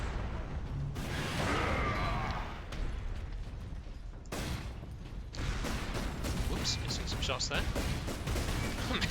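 Heavy bolter fire in a Warhammer 40,000 video game pounds out as dense, continuous bursts of loud booming shots with mechanical whooshes, while a commentator talks over the barrage.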